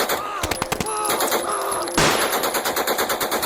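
Rapid machine-gun fire in a World War II airborne assault on a bridge: loud, continuous bursts of closely spaced shots that keep going through the clip, with a brief louder blast in the middle.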